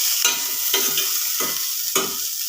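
Bitter gourd is stirred and sautéed in a hot pan, four distinct scraping stir strokes at regular intervals over a steady close sizzle, no voices.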